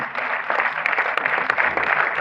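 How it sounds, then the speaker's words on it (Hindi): Audience applause in a tribute gathering, a dense patter of clapping hands that stays fairly even for a couple of seconds with a few sharper claps standing out. "भरपूर तालियां होनी चाहिए"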